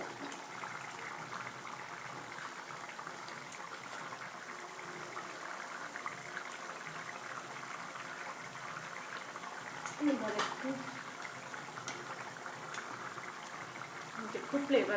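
Small fish curry simmering on low heat under a lid, a steady soft bubbling hiss that stays faint and even, with a slightly louder burst of bubbling near the end.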